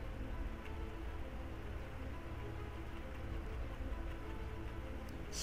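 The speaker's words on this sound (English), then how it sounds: "Still raining, still raining." Steady rain pours down in the zombie survival game Project Zomboid, an even, unbroken hiss of falling water that holds at the same level throughout with no voices.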